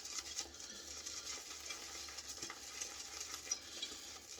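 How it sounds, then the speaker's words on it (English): A loaded shaving brush swirls lather in a bowl before a straight razor shave, a soft, continuous wet churning and swishing up close, faint and steady throughout. "Got the brush nice and loaded up. Taking it to the bowl and mix."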